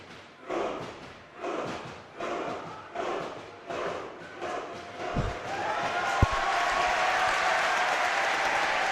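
A large crowd at a European Rubik's Cube championship welcomes a Norwegian finalist: rhythmic group clapping in steady bursts, then swelling into continuous applause and cheering, with a couple of sharp thumps.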